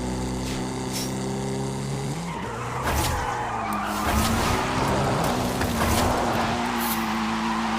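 Ford Mustang SVO cornering aggressively in the video game Forza Horizon 5: a humming four-cylinder engine drone shifts pitch as the tires break into a sustained, loud skid and squeal through the turn.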